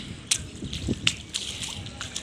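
Rainwater sloshing and dripping across a flooded rooftop after heavy rain, with scattered splashes and drips over a steady wet wash, fairly close.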